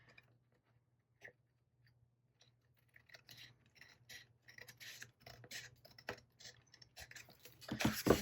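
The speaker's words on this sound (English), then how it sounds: "I'm just going to use my big scissors for this." Big scissors trim a paper scrapbook page with a series of close, crisp snipping and crinkling sounds that grow busier and louder toward the end, with no talking.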